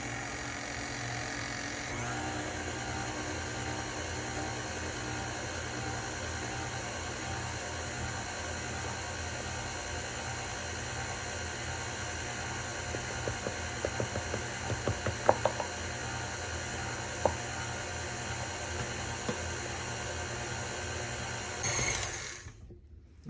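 An electric mixer whirs steadily, blending flour, baking powder and salt into cream cheese pound cake batter, a continuous close motor drone with faint ticks and taps near the end before it switches off abruptly, no talking.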